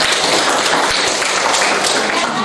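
Students in a classroom applauding together, a dense, loud, continuous patter of clapping with voices mixed in.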